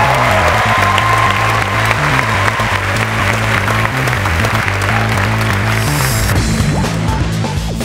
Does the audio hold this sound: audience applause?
yes